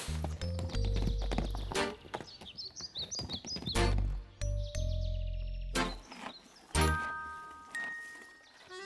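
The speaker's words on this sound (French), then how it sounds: "C'est le cas de Balou, ancien cheval de course réformé." Hooves of a retired racehorse clip-clop in uneven steps nearby, with sharp knocks standing out, while birds chirp faintly in the background.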